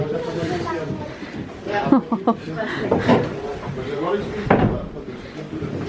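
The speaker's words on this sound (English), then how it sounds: "you've got to close that door first before you open this one" A heavy chamber door swings shut with a few solid knocks and thuds inside an underground salt mine, close by, while people keep talking over it.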